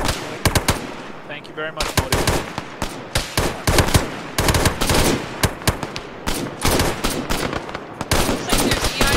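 Rapid machine gun bursts crackle almost nonstop through an Arma 3 firefight, loud and close with overlapping shots, while squad voices talk over the shooting.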